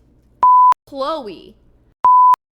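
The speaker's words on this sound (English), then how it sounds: "Beep, beep, beep." Two identical flat censor beeps from the video game Midnight Witch, each lasting a fraction of a second, loud and clean, with a short spoken word between them.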